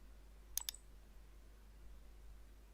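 A mouse clicks twice in quick succession on a Go button while adding a variable product in WooCommerce, two sharp close clicks over a quiet background.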